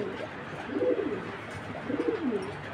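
Low, soft cooing from racing pigeons, two rolling phrases close by, with a quiet hum underneath and no talking.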